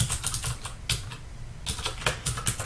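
Rapid clicking keystrokes on a computer keyboard, irregular bursts of close, crisp taps with brief pauses between runs, no voices.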